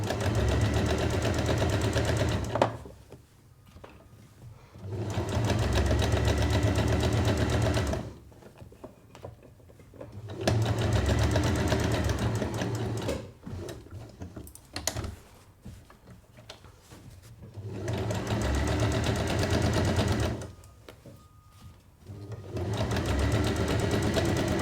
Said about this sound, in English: you top stitch it in exactly the same way that you join the pieces in the first place